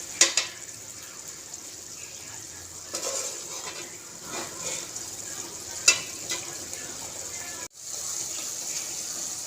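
Vegetables sautéing in a pan for fish curry, a steady close hiss of frying with occasional clinks and a short break near the end.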